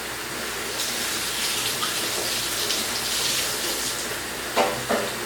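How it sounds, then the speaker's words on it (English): Kitchen tap running steadily while hands are washed between cooking steps, a close, even rush of water with a couple of brief splashy bumps near the end. "I'm going to step away and wash my hands again"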